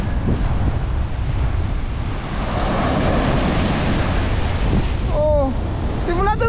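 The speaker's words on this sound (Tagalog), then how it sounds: "Pambihira na alon yan." Roaring, rushing surf crashes continuously under heavy wind buffeting the microphone, loud and close throughout, with brief squeaky bird-like chirps near the end.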